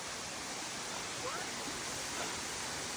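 Mt. Carmel waterfall in Grenada, heard as a steady broadband rush of falling water, constant and fairly distant, with faint voices beneath the noise.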